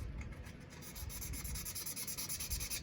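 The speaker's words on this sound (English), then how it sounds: "You can see as I'm sanding it, the blade's turning a rusty color." Sandpaper with WD-40 rubs rust off a Schrade pocket knife blade, a close, steady gritty scraping that speeds into quick, rhythmic back-and-forth strokes toward the end, with no talking.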